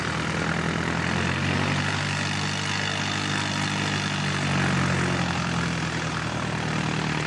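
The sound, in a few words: aircraft arriving at Christchurch airport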